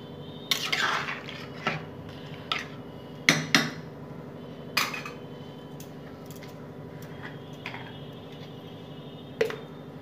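Dal chhana torkari, a lentil and vegetable curry, being stirred in a metal pot: sparse, sharp spoon clinks and scrapes at irregular intervals over a low, steady background hum, with no voices.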